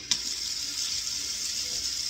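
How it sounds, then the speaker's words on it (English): Tap water runs steadily into a kitchen sink, a continuous bright hiss with a small clunk at the start. "I'm going to start to add water back in."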